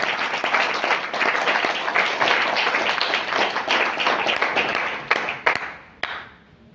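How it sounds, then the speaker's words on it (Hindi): An audience at a business leadership event bursts into loud, sustained applause, dense clapping that holds steady for several seconds before trailing off into a few scattered claps. "जयवीर जी सर के लिए बहुत बहुत तालियां"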